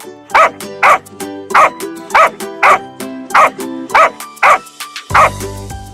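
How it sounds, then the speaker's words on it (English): A dog barks about ten times in a steady rhythm, loud and close, with no other sounds between barks. "This is a dog."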